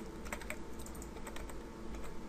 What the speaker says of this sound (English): type in your sales figures